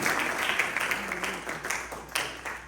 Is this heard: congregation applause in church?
yes